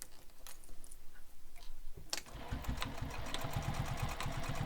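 A sewing machine runs back and forth stitching a bag, first with soft handling noises, then a steady close mechanical whir with a rapid regular needle rhythm for the final couple of seconds, no voices.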